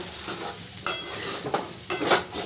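Fried potatoes and onion stalks stirred in a sizzling pan, with a utensil scraping and clinking in three distinct sweeps over a steady frying hiss.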